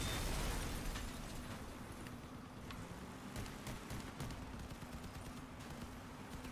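Dense, continuous barrage of booming cannon blasts and crackling bursts from the video game Crossout, loud and close, with heavy low rumble and no voices.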